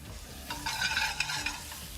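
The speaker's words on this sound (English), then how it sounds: "We're gonna run 2 pans at the same time. Apples go in to the little pan. Whack up that gas." Apples frying in a small pan over a high gas flame, a steady sizzle with stirring and scraping in the pan, close and fairly loud with no talking.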